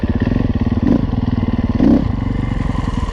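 A dirt bike, either a 2015 Husqvarna FC350 or a 2010 Husaberg FX450, rides through tight woods with a loud, close, rapidly pulsing engine and two sharp throttle surges, with some clatter from the terrain.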